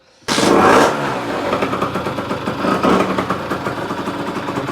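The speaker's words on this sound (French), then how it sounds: "Et là, on va voir si la moto s'accélère toute seule." A small motorcycle engine on a quick-action throttle kit fires up abruptly and roars close by, settles to a rough, pulsing idle, then surges again in a brief rev before settling back.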